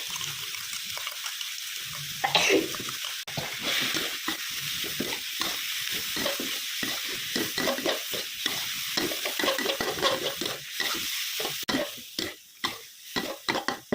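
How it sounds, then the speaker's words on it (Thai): Shrimp stir-frying in a hot pan, a loud continuous sizzle broken by busy, irregular spatula scrapes and knocks close by, with no talking. "เอากุ้งไปผัดก่อนเด้อทุกคน"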